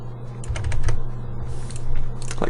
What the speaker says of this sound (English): I'm trying to type in the dark,